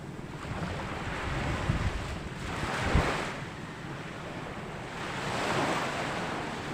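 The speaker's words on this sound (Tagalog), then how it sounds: "medyo may kalakas may kalakasan ng hangin" Strong wind buffets the microphone in steady roaring gusts under an overcast sky by the sea, mixed with the wash of surf breaking nearby, swelling around the middle and again near the end.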